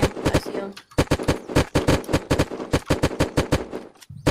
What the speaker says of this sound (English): Oh no, he's shooting at me